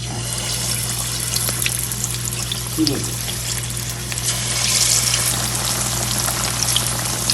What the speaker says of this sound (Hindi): ऑयल मेरा देखें गर्म हो चुका है और अब इसमें जो है चिकन डाल देते हैं।